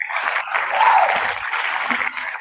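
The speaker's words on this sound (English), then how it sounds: "The applause kind of breaks up in the middle." A recording of applause played back: a dense wash of clapping that wavers and thins partway through, with the texture breaking up in the middle before filling back in.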